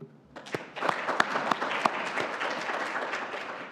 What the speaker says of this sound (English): everyone in this room deserves another round of applause